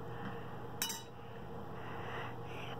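A single sharp glassy clink as a drink is picked up at a table, brief and fairly close, followed by quiet room tone.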